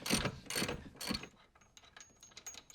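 A hand ratchet loosens a nut on a trolling motor bracket with quick sharp clicking bursts in a few close strokes, then lighter scattered ticks as the nut turns free.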